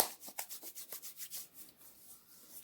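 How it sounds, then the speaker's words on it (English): Hands rubbing together with an oil blend of eucalyptus and cinnamon, making a quick rhythmic swishing friction that is close and soft and fades toward the end. "Rub it."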